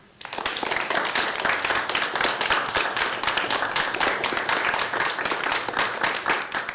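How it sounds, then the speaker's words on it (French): A hall audience at a screenwriting contest ceremony applauds student screenwriters with loud, dense, continuous clapping that starts abruptly and keeps an even intensity throughout. "Je vous prie d'applaudir ces futures stars du cinéma, mesdames et messieurs."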